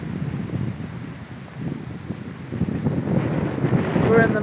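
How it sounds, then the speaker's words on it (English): Heavy wind during an Arizona dust storm on a remote road, a steady roaring buffet on the microphone that grows stronger toward the end. "But the wind is pretty heavy, and this is the road that we're on."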